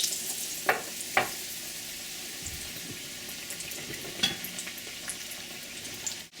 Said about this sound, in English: We're going to put it in the oil.